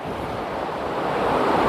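The Meghamalai waterfall rushes with a loud, dense, steady roar of falling water, heard close up and continuous, with no voices over it.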